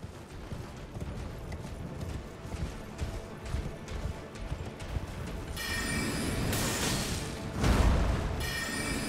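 Horse hoofbeats in Elden Ring clip-clop in a quick rhythm, joined by thuds and a brief crash partway through, with game ambience and a voice faintly underneath.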